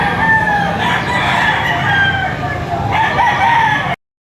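A rooster crows loudly nearby in two long, drawn-out calls at 7 in the morning in Padre Garcia, Batangas, with a short pause between them, before the sound cuts off abruptly.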